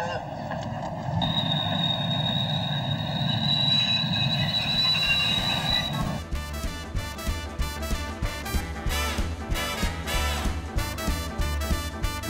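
An Enterprise passenger train runs on the Dublin–Belfast line, a steady rumbling ride with a high wheel whine at first, then a rhythmic clickety-clack of wheels over rail joints, loud and close as if from inside.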